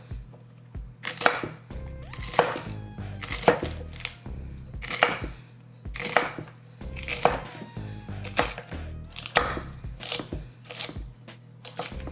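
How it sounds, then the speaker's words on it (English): A knife rough-chopping celery on a cutting board, a close, steady series of crisp chops in short bursts with brief pauses between. "Give them a rough chop. You ain't gonna go crazy with the celery."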